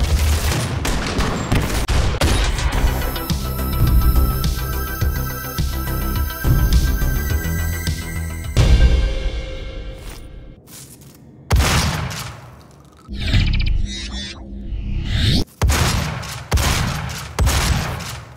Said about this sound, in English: Doom 2016. This shotgun was the surprise star of the show